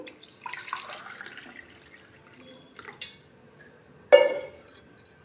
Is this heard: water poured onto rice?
yes